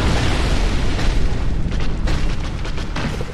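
Explosion in Dark Souls Remastered near lava, a loud sustained booming roar that fills the whole clip with heavy rumbling low end.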